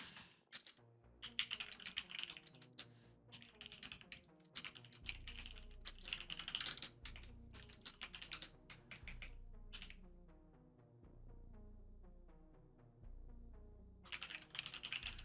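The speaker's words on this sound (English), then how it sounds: "My typing skills are better than this." Rapid computer-keyboard typing during a programming session, a dense run of close, crisp keystroke clicks in irregular bursts, with a lull of lighter tapping before a final flurry.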